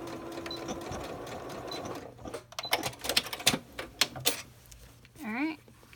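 A sewing machine stitches track pants pocket pieces, pivoting at a notch; bursts of rapid mechanical stitching start and stop in short runs, with a quiet whir in between and a brief fabric rustle near the end.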